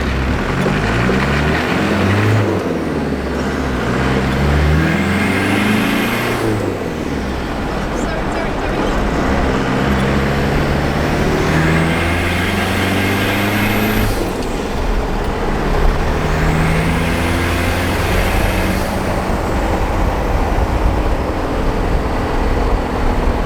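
A Holden Rodeo with a compound-turbo 4JB1 diesel, ARP head studs and 30 psi of boost is being driven. A loud, steady cabin drone of engine and road noise carries repeated rising and falling sweeps in pitch.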